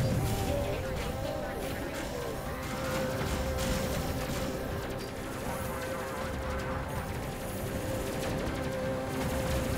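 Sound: gunfire from guns repelling boarders in the video game Space Crew

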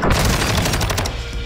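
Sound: hip-fire gunshots in Warzone video game

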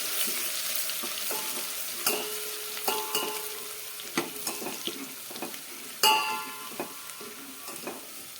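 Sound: cumin and garlic frying and being stirred in a pan

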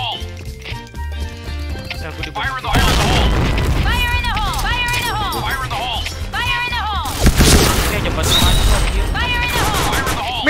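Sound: bomb explosions in a video game

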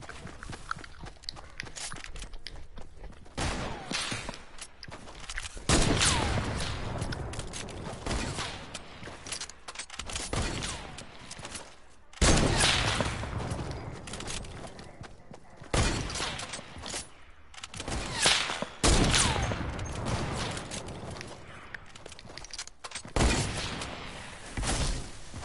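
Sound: sniper rifle gunfire in a video game battle

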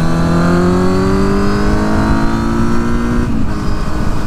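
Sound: four-cylinder quad engine sound while riding

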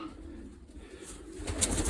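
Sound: pigeons cooing in a loft

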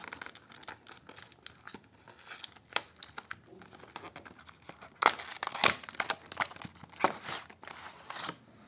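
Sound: unwrapping packaging of black Sunix powerbank

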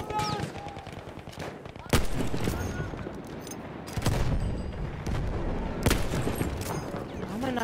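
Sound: gunfire in Battlefield 1 video game

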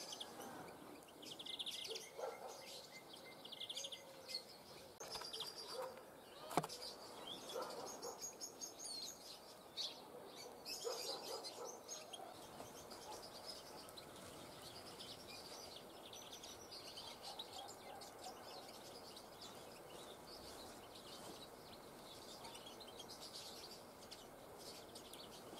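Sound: sparrows feeding under a trap net

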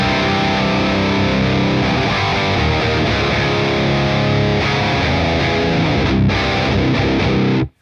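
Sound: electric guitar through octave pedal

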